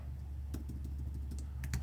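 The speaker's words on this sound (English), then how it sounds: "So once I start typing in here" Typing on a computer keyboard, a run of light, quick key clicks over a steady low hum, close and fairly quiet.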